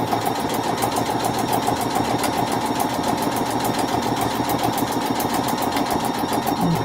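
A sewing machine stitches fabric for foundation paper piecing, running in a steady, even mechanical whirr with a fast regular needle rhythm throughout and no talk.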